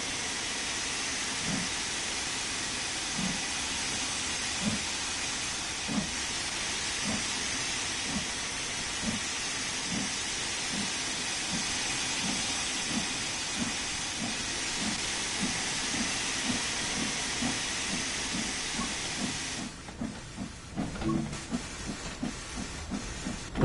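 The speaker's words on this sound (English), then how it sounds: "I haven't forgotten my technique of driving a steam train." A steam locomotive in the Train Sim World 3 game hisses steadily and loudly throughout, with regular rhythmic chuffs underneath that continue as the hiss thins out near the end.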